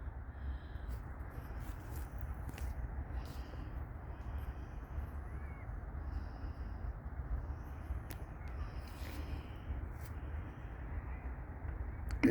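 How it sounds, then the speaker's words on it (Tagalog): Seagulls call intermittently near a lake, their faint, scattered cries sitting over a steady, loud broadband rumble of wind or background noise. "Doon sila yung mga seagull, mga ibon sa karaniwan sa mga pond"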